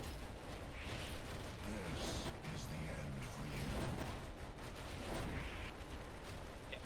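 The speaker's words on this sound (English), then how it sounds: "we're just going to be holding our primary fire and shooting out alternate fire occasionally once we build up enough fury meter to do that" Heavy gunfire in the NecroVisioN shooter game during a long boss fight against Mephisto, dense bursts of shots and blasts piling up continuously, loud and unbroken, with a voice faintly underneath.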